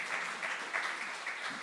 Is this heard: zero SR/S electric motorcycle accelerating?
no